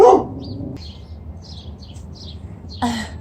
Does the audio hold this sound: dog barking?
yes